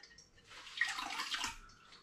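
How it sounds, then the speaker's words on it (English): Homemade hops, lime and ginger cider trickles and patters through into a vessel in a short, soft burst of liquid that swells and fades within about two seconds. "And you can hear it dripping through, actually."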